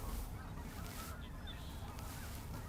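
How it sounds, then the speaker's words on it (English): A large flock of waterbirds at a wildlife refuge, a dense, continuous wash of honking and chattering calls from many birds at once, fairly close and steady throughout. "Just the sheer number of birds. Just chattering, man."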